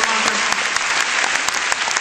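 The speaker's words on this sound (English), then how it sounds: "Give him a round of applause." Audience at a 2005 Joyful Noise Tour concert in Clearwater applauds the production manager, a dense, steady burst of clapping with scattered sharp claps throughout, loud and close.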